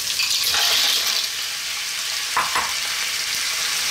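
Clams being stirred in a hot pan, a steady bright sizzle with a couple of scraping utensil strokes and shells shifting, close and fairly loud with no talking.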